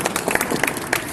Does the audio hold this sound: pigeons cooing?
no